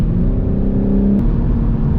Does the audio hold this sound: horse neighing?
no